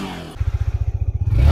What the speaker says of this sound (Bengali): একদম প্রত্যেকটা গাড়ি সাউন্ড দারুণ